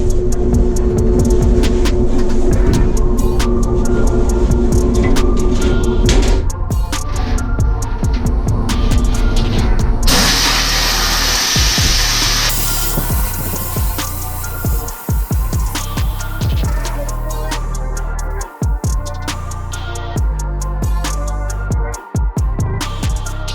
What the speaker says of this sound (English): now we're in the booth and we're gonna be sandblasting